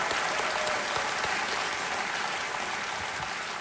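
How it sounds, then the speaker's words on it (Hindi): Studio audience applauding on a quiz game show set, a dense steady roar of many hands clapping that holds throughout without speech. "तालियां बजती रहें जोरदार।"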